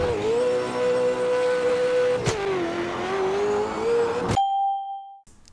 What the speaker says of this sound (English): When you accelerate, especially with a powerful car,